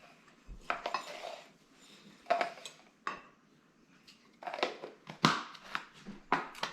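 Brownie baked oats batter is stirred in a bowl with a spoon, giving intermittent scraping and clinking bursts against the dish. The bursts are fairly close but quiet, with pauses between the strokes.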